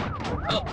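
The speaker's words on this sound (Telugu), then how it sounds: "ఏంటి ఆ సౌండ్? సైరన్ సౌండ్ అండి." A loud wailing siren sweeps up and down in pitch, brief and close, with a low engine rumble beneath.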